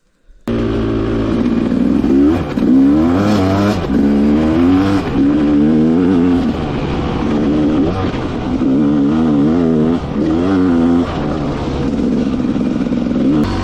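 An enduro motorcycle engine revs hard and repeatedly on grass, with rising and falling, loud close-up roars and clattering as the tyres spin.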